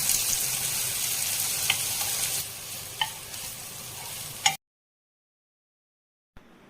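Chilli, curry leaves, shallots, garlic, grated coconut, turmeric and salt sautéing in a pan for banana flower thoran: a steady close sizzle with scraping stir clicks, then sudden silence and a faint return.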